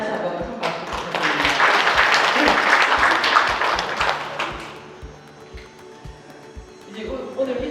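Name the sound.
audience applause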